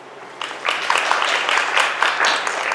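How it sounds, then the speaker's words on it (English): An audience at an informal writing event applauds to welcome the author Paula Whyman, a dense burst of many hands clapping that holds steady for a few seconds, heard in a room. "How about a round of applause to welcome Paula Whyman?"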